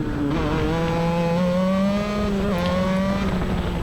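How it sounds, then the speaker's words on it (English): A racing kart engine on a track whines loudly and close, its pitch sliding down as it brakes and downshifts, with a steady buzzing drone beneath. "coming down the straightaway, braking, downshifting, going into the turn."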